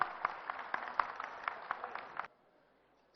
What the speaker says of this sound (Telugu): ఒకసారి గట్టిగా చప్పట్లు కొడదాం అందరం.